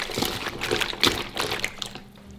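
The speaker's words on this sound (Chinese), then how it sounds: "然后先加入少量的清水抓洗3分钟，这样可以去除排骨中残留的血水" Pork ribs scrubbed by hand in a basin of water with salt and baking soda, giving close, irregular wet sloshing and squelching with small splashes and trickles, moderately loud and continuous without talk.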